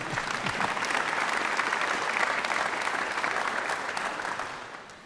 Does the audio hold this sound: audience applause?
yes